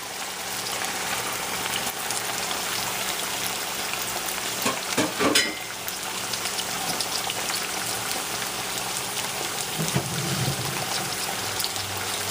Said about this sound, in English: And it's frying.